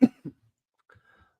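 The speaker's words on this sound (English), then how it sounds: "Living the dream right here with all the coughing and crap." Two quick, close coughs come in rapid succession at the start, followed by near silence.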